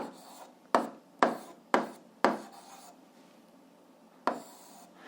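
Handwriting on paper while working an algebra fraction problem: several short scratchy strokes in quick succession, then a pause and one more stroke, close and quiet with no talking.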